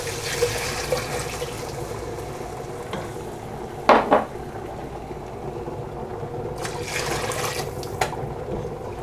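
Rice and boiling water go into a pot of onions softened until tender, translucent and golden-edged, for Georgian yogurt soup; a steady sizzle and stir with a brief loud splash and clatter near the middle, then bubbling.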